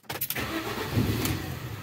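An already-warm car engine slow to start: a brief stuttering crank before it catches and settles into a rough, even idle, close by.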